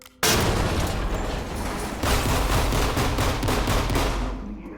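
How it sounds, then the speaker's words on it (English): A C2 breaching charge detonates in the tactical police shooter Ready Or Not, a sudden loud blast that stays dense and roaring for several seconds with a second surge of crackling debris midway, then tails off near the end. "Readying explosive."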